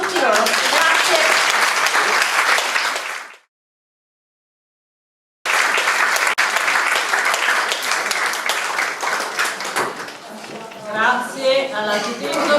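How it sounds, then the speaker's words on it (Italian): Audience applause at a European Heritage Days event in a palazzo, loud sustained clapping from a crowd that cuts to silence, then resumes and carries on with scattered voices and some cheering mixed in. "un applauso a tutti loro"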